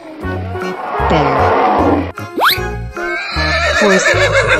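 A horse whinnies loudly over a busy, dense musical background, with a rising shrill squeal in the middle and further shaky neighs after it.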